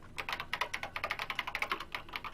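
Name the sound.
keyboard typing sound effect in the video game Danganronpa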